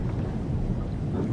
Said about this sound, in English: That sounds like freaking storm,